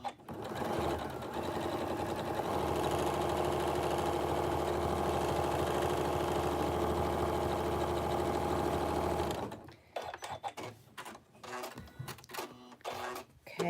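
A sewing machine stitches a fabric surgical face mask, running in one steady, rapid mechanical whir for about nine seconds before stopping and giving way to quieter handling noises and short bursts.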